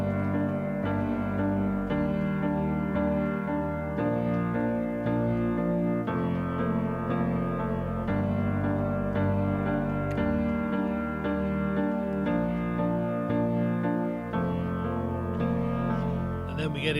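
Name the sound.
Nord Stage 3 keyboard playing a song verse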